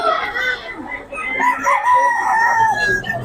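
Chickens cluck and a rooster crows close by, several birds calling over each other in a busy, loud burst.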